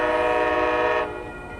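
An Amtrak Coast Starlight passenger train led by a Charger locomotive passes slowly through Oakland, California, sounding a loud, steady multi-tone horn that cuts off after a second, leaving a lower rumble.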